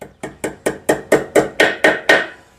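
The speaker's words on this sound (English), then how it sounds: "let me get a small ball peen hammer and we can smack this thing in place" A small ball peen hammer taps a key into a Briggs and Stratton engine stator, nine sharp metallic strikes in a steady, slightly quickening rhythm, close and loud with no talking.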